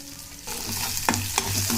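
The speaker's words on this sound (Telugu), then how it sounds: "వేసిన తర్వాత ఎల్లుల్లిపాయలు వేద్దామండి. ఇది కొద్దిగా దోరగా వేగాలి." Garlic cloves fry and sizzle in a hot pan for a Telugu sunflower-seed karam podi, with steady close crackling and a couple of sharper stirring scrapes partway through.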